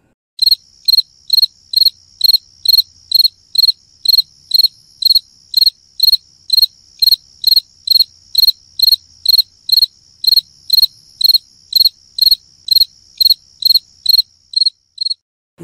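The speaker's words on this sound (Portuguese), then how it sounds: "De um grilo? Isso mesmo." Crickets chirping at night in a recording played for a classroom: regular, evenly spaced bright chirps repeating steadily for about fourteen seconds, close and clear with no talk.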